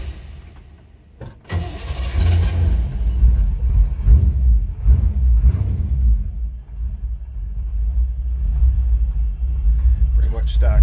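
A 1958 Chevrolet Impala's 348 V8 cranks briefly, then catches and settles into a deep, lumpy low rumble at idle, close and loud throughout.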